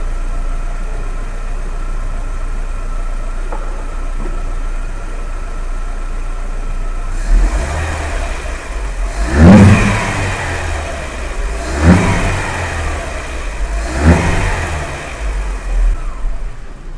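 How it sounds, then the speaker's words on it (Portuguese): A car engine idles steadily, then is revved three or four times in quick bursts, each rev rising sharply and falling back to idle, close and loud, while the MAP sensor is being tested. "Se eu acelerar, ele vai oscilar igual oscilava lá no scanner. Deixa eu acelerar para vocês verem."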